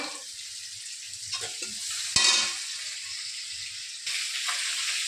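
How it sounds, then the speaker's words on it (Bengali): Onion, ginger and garlic paste being sautéed and stirred in a pan, giving a soft steady sizzle with a louder burst of frying midway and scraping stir strokes, close and alone. "পেঁয়াজ আদা রসুন কষিয়ে নিয়েছি"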